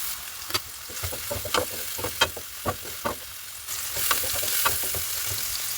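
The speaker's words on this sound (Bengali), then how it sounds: "এর মধ্যে দিয়ে দিলাম পেঁয়াজ কুচি। পেঁয়াজটাকেও কিছুক্ষণ ভেজে নিব।" Chopped onion fries in oil left from frying pomfret fish, a continuous close sizzle punctuated by repeated sharp stirring knocks against the pan.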